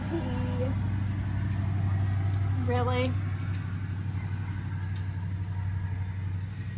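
A car passing outside the room, a steady low rumble of tyres and engine building and fading beneath a person speaking indoors.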